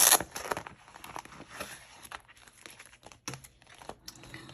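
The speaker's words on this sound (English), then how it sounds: "So let's take the cash out of this envelope." Paper envelope crinkling and rustling as cash is pulled out of it, a loud crisp crackle at the start followed by quieter intermittent rustles and small crinkles, with no voices.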